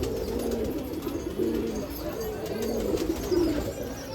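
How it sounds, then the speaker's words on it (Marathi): Pigeons coo at a pigeon loft during a pigeon festival in Nashik, with repeated low rolling coos close by and a few overlapping birds calling continuously. "जुने कबूतर आहे हे बघा"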